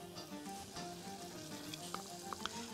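Tomato soup simmering and thickening in a pot gives a soft, steady bubbling sizzle with faint pops and light clicks, fairly quiet and with no talk.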